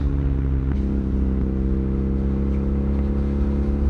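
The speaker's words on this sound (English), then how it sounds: "The sound you're hearing, if you can hear it, of the exhaust, that's the stock exhaust." A BMW R nineT motorcycle's stock exhaust idles with a steady, deep rumbling drone, close and constant, with a faint blip early on.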